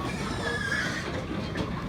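A high, shrill pig squeal cuts through a dense, noisy pork slaughterhouse pen, with continuous low rumbling and scattered animal cries.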